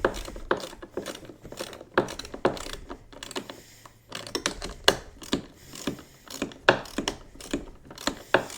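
A hand ratchet tightening brackets on a Polaris Hawkeye 4X4, giving loud, close clicking strokes in repeated bursts with brief pauses between them.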